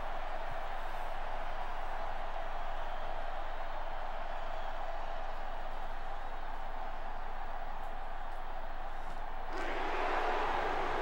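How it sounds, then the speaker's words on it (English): Broad, steady stadium crowd noise from an NCAA Football 06 college bowl game, a sustained roar of booing that swells louder near the end, with no talk over it. "Not sure why they're booing here."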